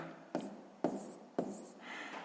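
Three distinct scratchy pen strokes on paper, each starting with a sharp attack and fading, then a lighter scribble as a fifth-grade math exercise is written out, close and quiet with no voice.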